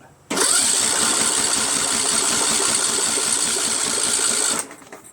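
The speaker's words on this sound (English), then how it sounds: "I've removed the spark plug, and I'm going to crank it and blow something out." A Troy-Bilt 1842 lawn tractor engine cranks with its spark plug removed, a steady fast whirring starter churn lasting about four seconds, close and loud, then stopping abruptly.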